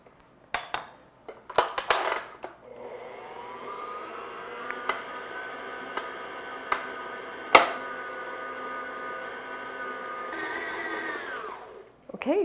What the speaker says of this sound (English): And then I'm just going to mix this until everything's combined. Again, on medium-low speed.